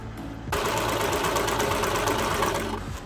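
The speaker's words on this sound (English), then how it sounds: "just sew the shoulders together at 5/8" A sewing machine stitches the shoulder seams of a Dallas Cowboys costume in one steady, continuous run of whirring stitching that lasts about two and a half seconds and sounds close and even.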